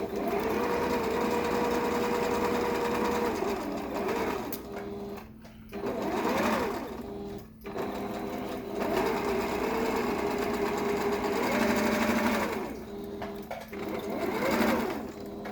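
A sewing machine runs steadily while stitching a quarter-inch seam on a fitted fabric face mask, its whirring motor broken by a few brief pauses and restarts.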